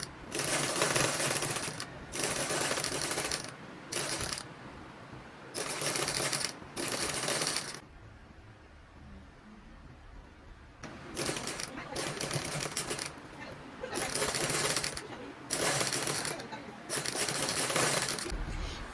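A domestic sewing machine stitches bias tape onto a trouser zipper fly in loud, rapid bursts of clattering needle runs, separated by short pauses, with a longer quiet stretch midway before stitching resumes.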